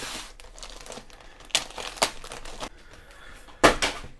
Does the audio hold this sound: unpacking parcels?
yes